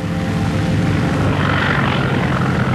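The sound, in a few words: small airplane landing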